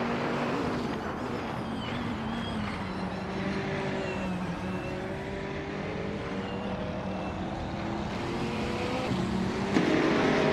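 Race cars, including a 2019 Ginetta G55 Super Cup, run on a track in a video game, a steady engine roar with whining rising and falling tones as cars pass, continuous and moderately loud, no talk.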